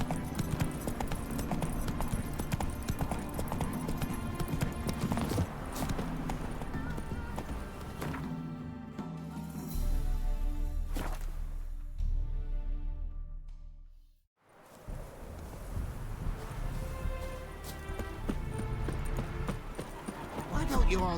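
Hoofbeats of a horse galloping in the Witcher 3 Blood and Wine video game, a steady rapid clip-clop running through most of the stretch with game music and a brief near-silent gap midway, plus a faint whinny.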